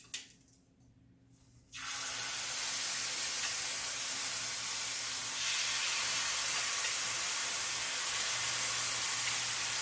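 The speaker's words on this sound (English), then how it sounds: "Let it form its super hard crust on the outside. We're going to let it sear for about 4 minutes per side." Meat searing in a hot pan, starting with a short quiet moment and then a sudden loud, continuous sizzle and hiss that stays steady and close for the rest.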